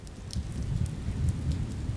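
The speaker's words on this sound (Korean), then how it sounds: "갑자기 큰 빗방울이 쏴 하고 퍼부어졌다" Steady rain pouring down, a dense wash of drops with faint low rumbling beneath; no speech.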